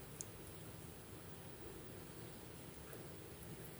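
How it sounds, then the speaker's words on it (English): Soft, steady rain hiss fills the air outdoors, with a faint low rumble of thunder far off in the background. "it is raining outside, and in the back, in the distance, I can hear the thunders."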